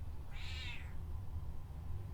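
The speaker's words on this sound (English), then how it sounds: "My cat is loud." A house cat lets out a single drawn-out meow, fairly close and distinct, above a low steady room hum.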